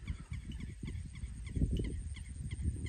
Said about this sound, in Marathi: कशा प्रकारे पक्ष्यांचा आवाज आहे